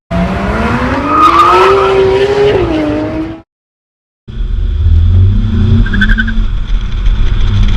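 A Volkswagen Golf GTI driven hard, its engine revving loudly and rising in pitch, then a brief silence before tires squeal and the car roars on, close and loud.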